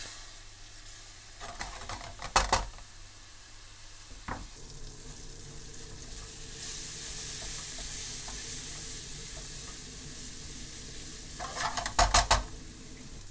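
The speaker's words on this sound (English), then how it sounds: "fry for a minute or two to form a paste" Spices frying into a paste in a pan with very hot water for a British Indian restaurant-style mango chilli chicken, a steady close sizzle and hiss with a few sharp bursts of spatula stirring and scraping near the start and end.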